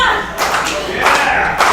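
A wrestler is driven down onto the mat by a curb stomp in a women's wrestling brawl. Several loud, close thuds and slaps land in quick succession over a fairly constant background.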